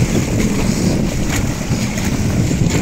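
Steady roar of a motorboat at the beach as it tows a banana ride, a constant loud engine and hull rush mixed with wind buffeting and splashing water, no pauses.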